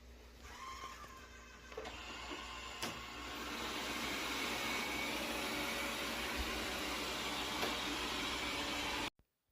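A robot vacuum, the iLife A11, starting an area sweep, its motor and brushes making a steady broadband whir that holds evenly throughout before cutting off abruptly at the end.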